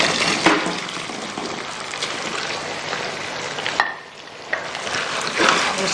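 Chicken pieces for dynamite chicken go into a hot pan and are stirred, giving a loud, steady sizzle with scraping and clattering stir strokes up close.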